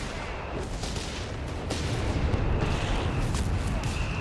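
Artillery barrages in the World War II strategy game Company of Heroes 3 rumble as a continuous low roar with scattered sharp blasts and thuds, building slightly louder toward the end, with no voices.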